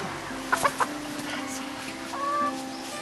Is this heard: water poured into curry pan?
no